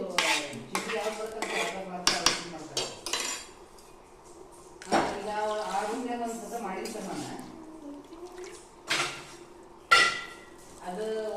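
Coconut paste mixed into green chicken sukkha, with repeated clinks and scrapes of a metal spoon against the pot, uneven and close, under ongoing talk.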